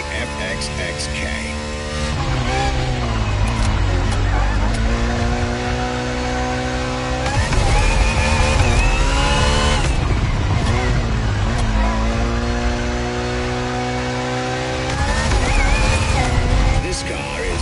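A Ferrari FXX-K supercar races in The Crew Motorfest, its engine screaming through repeated rising gear pulls with a steady loud roar, while a voice talks over the engine.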